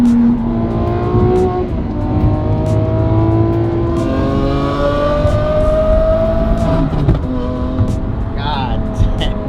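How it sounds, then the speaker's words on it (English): Lamborghini SVJ with an aftermarket exhaust, revved hard nearby: a loud sustained engine roar climbing and falling in pitch, broken by sharp exhaust pops and crackles, especially toward the end. "the flames get bigger and the pops get bigger as the exhaust system gets hotter"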